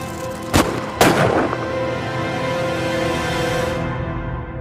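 Two loud gunshots ring out about half a second apart in a mob hit ambush by a lone gunman, followed by a long, rumbling reverberant tail that fades over several seconds.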